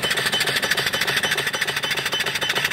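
A model steam engine with a flyball governor, 2-inch bore, runs steadily with a fast, even mechanical chuffing and clatter, close and continuous with no talk.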